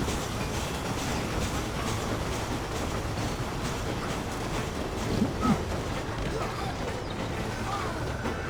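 Steam train running in the Red Dead Redemption video game: a steady, dense rumble of rolling wagons and clattering track that continues unbroken throughout, with faint game effects over it and no one talking.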